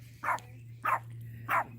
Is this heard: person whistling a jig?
no